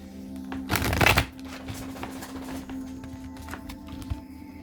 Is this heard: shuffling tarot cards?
yes